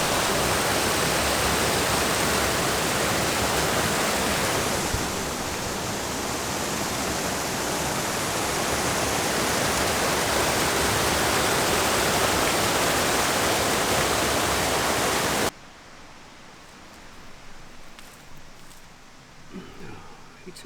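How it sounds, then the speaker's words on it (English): A river rushing in Scotland, a loud continuous broadband roar of flowing water that cuts off abruptly near the end, leaving quieter outdoor ambience. "Let's go down here, because I can hear a river."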